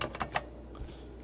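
Keys tapped on a computer keyboard while entering English text in a graphics program, a short burst of a few quick, light clicks up close, then quiet room tone.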